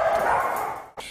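Several dogs bark and yip at an animal shelter that has filled up, a dense, continuous run of barking close by that cuts out briefly near the end before resuming.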